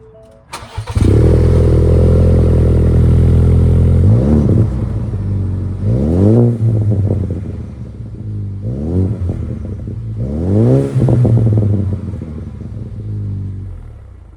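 A 2020 Ford Ranger with a 3-inch glasspack cat-back exhaust cranks and starts, settles into a loud, deep idle, then revs several times in rising and falling pulls, close and strong.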